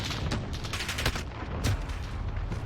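Rapid automatic gunfire in Call of Duty Modern Warfare ground war, loud and close, with repeated bursts of shots crackling over a dense battle background.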